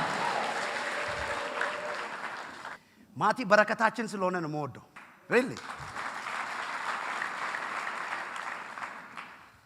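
A church congregation in Ethiopia claps in loud, dense applause that fills the hall. The clapping stops while someone speaks briefly into a microphone, then it swells again and carries on steadily to the end.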